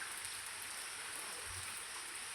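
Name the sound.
rain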